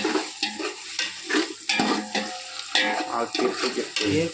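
Onions fry with ginger garlic paste for biryani, a loud, close sizzle broken by repeated rhythmic scrapes and knocks of a ladle stirring in a large pot.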